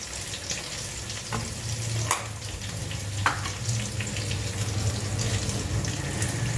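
A tablespoon of butter melting in a frying pan gives off a steady, moderate sizzle close by, with a few light clinks and taps scattered through it.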